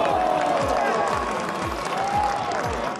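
Golf crowd at the 2017 HSBC Women's World Championship reacting to a holed shot, a loud sustained roar of cheering and applause with a commentator talking over it.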